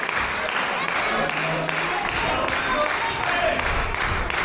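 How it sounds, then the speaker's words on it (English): Wrestling crowd at a live pro wrestling show cheering and clapping to rally a struggling wrestler, a loud steady roar of many voices and hands with a commentator talking over it. "And you can hear there the crowd doing their absolute best to inspire him."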